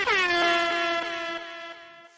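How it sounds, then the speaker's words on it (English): A single long, loud air horn blast with a bright, brassy tone that holds steady and then fades out, with no talk over it. "Let's wake you up a little bit with this wonderful stylings from Airhorn."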